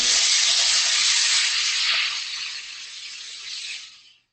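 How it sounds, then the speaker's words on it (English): A garment steamer blasts a steady, loud hiss of steam onto a gored or circle skirt, holding strong for about two seconds, easing slightly, then cutting off abruptly at the end; no talking. "somebody comes along and steams it a little bit"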